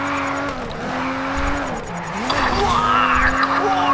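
A race car engine drones steadily in the video game Race Driver Grid, its pitch dipping and rising with gear changes and a brief tire squeal, under continuous game sound.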